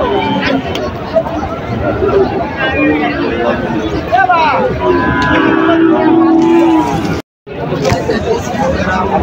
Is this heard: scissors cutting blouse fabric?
no